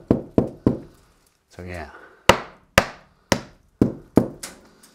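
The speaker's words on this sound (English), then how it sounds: "Luckily I got this nice little hammer from my favorite DIY store." A small hammer strikes a hollow-sounding wooden roof beam, giving sharp, resonant knocks: three quick blows, a short spoken pause, then five more evenly spaced hits, close and loud.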